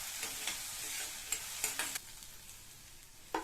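Onions sauté in hot oil with curry leaves and dried chillies for a baby potato kara kuzhambu, a soft steady sizzle broken by spoon stirs and scrapes, with no voices.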